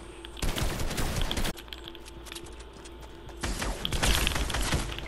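Pump shotgun gunfire in a video game, loud blasts and rapid bursts of shots in two clusters with a quieter stretch between, close and harsh, without speech.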